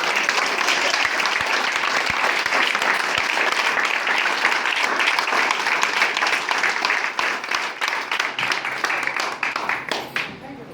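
Sustained applause from a standing audience welcoming new guests at a motivational leadership talk in Lucknow, dense steady clapping filling the room before thinning out near the end.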